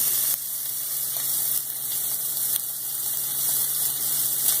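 Shrimp and pasta cooking in a pan for shrimp vodka pasta, a soft, steady hiss and sizzle at moderate level throughout, with a few faint clinks and no talking.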